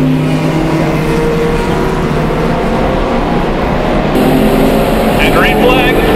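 Closed-wheel Group 1 race cars in Gran Turismo roar down the front straight together, a loud steady engine drone with a brighter rise near the end, with a commentator talking over it.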